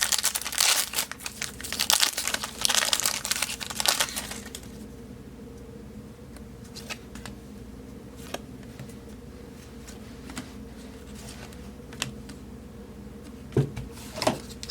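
Upper Deck 2016-17 Series 1 hockey card pack being torn open, with loud crinkling and tearing of the foil wrapper over the first few seconds, followed by quieter light handling and a few soft clicks.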